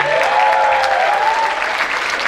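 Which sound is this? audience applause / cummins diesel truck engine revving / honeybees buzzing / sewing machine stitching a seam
audience applause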